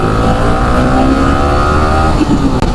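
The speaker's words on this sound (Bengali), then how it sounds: "আমি বাইক রাইড করে দেখাবো পাকা রাস্তা একটু টান দিয়ে দেখি" A motorcycle is pushed hard along a paved road, its engine holding a loud, steady revving drone for a few seconds, close up, with no talk over it.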